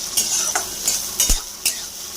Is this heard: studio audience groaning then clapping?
no